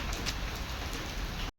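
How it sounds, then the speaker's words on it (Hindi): Steady rain pours down on a street beneath dark, thundery clouds, a dense continuous hiss of drops striking the ground at close range, with no voices. "मस्त हवाएं चल रही हैं, बारिश हो रही है"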